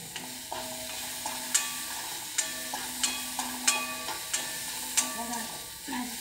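Shredded cabbage and onion are sautéed in a pan for a cabbage bhaji with thecha. A low sizzle runs throughout, and a spoon strikes the pan in regular, distinct taps about once a second, with no voices.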